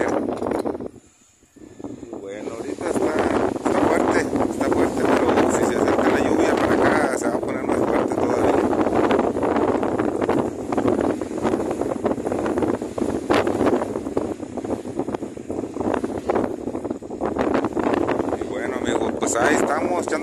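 Steady wind buffets a tied-down shelter, a constant rushing roar with gusts, while someone talks over it throughout.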